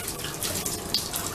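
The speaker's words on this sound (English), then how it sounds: "the shower head still has some pretty good pressure" Shower in a Super 8 motel room with Moen fixtures running at strong pressure, a steady broadband hiss of spraying water close by, with no voices.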